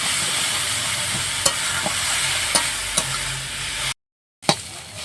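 Mustard flowers picked fresh from the field frying in a pan, a steady close sizzle with a few sharp utensil taps and scrapes, briefly cutting out before resuming, no voices.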